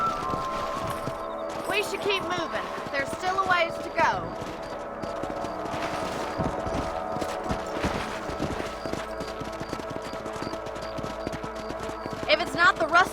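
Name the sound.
horses galloping in Red Dead Redemption video game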